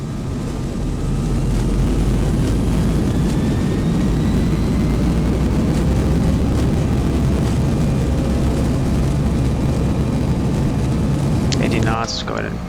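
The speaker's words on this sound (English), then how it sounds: "Ground spoilers. This out. First green. Reversers kick in." In the X-Plane 11 simulator, an Airbus A320 lands and its thrust reversers spool up into a loud, sustained jet roar with rising engine tones, continuous throughout before a brief clatter at the end.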